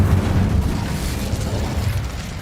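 Incendio fire spell cast in the video game Hogwarts Legacy, erupting as a dense, low rumbling burst that roars steadily for a couple of seconds before easing slightly, loud and close with no talking.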